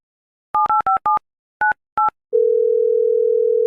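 A telephone call is placed: a series of quick touch-tone dialing beeps in uneven groups, followed by a steady, loud continuous tone.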